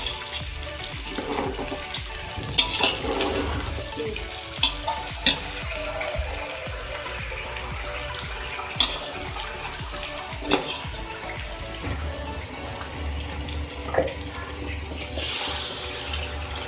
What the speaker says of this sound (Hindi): मैं इसमें ऐड करूँगी पानी